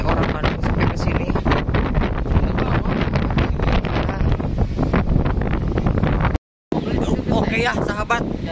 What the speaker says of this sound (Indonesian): ini teh anginnya semakin kencang